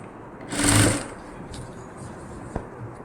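A sewing machine stitching a nighty runs in one short close burst of under a second, a high whirring buzz, followed by quiet room tone and a single faint click.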